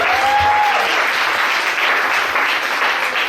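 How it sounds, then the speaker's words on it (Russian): A crowd applauds continuously, dense steady clapping at full volume from start to finish, with a brief tone at the very beginning. "Джон Уэйн, под ваши аплодисменты, друзья, у нас здесь в гостях."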